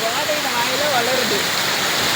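Water pouring steadily into a lake that has filled up, heard as a constant, loud rushing wash like a small waterfall, continuous throughout with no break.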